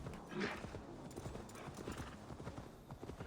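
Horse hooves clip-clop at a steady trot in Assassin's Creed Valhalla, close and continuous across the whole moment, with occasional soft game sounds around them.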